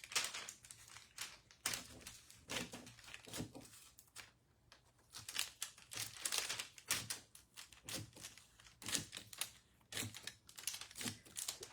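Scissors snipping through a rhinestone transfer on a T-shirt, a quick series of sharp crisp cuts with rustling and crinkling between them, close and fairly quiet.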